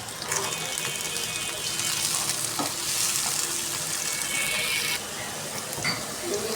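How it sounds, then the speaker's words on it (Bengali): Chopped onion frying in hot oil gives off a steady, bright sizzle with the scrape of stirring, staying close and fairly loud throughout, dipping slightly near the end. "পেঁয়াজ কুচি হালকা ভাজা হয়ে গেলে কাঁকরোলটা ভেজে নেব একই সাথে"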